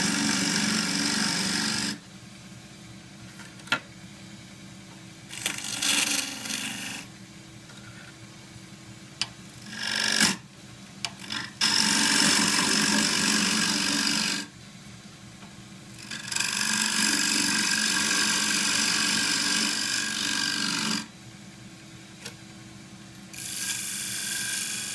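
A three-quarter inch square scraper cuts a wooden chuck collar spinning on a lathe, in bursts of harsh, scraping noise with quieter pauses between, close and loud, plus a few sharp clicks.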